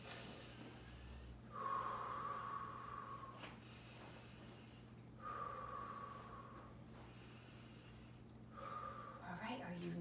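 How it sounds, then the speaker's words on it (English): Three slow, deep breaths drawn before yoga poses, each a long, airy inhale or exhale heard close over a steady low hum, with pauses between them. "the first thing we have to do is we have to take three deep breaths"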